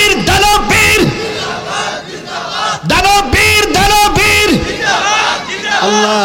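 A large crowd at a Bengali religious gathering in Tangail roars back a takbir response, several loud swelling shouted waves with rising and falling voices, repeated in bursts.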